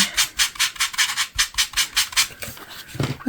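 Sandpaper scrubs charred edges off small wooden ornament pieces in quick, rhythmic back-and-forth strokes, about a dozen close, crisp rasps in steady succession.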